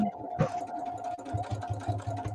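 A sewing machine runs a seam down a patchwork pillow in short, quick bursts of rapid stitching, close and steady, with no talking over it.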